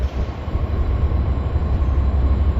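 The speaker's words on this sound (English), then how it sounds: "Oh, there's a train." A train runs along an active railway line tucked beneath riverside buildings on the Chicago River, a steady loud rumble of rolling wagons with faint wheel clatter throughout and no talking.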